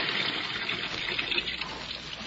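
Water pouring steadily into a tub, a continuous close rushing gush with no pauses and no talking.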